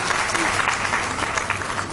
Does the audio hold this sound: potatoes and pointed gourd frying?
no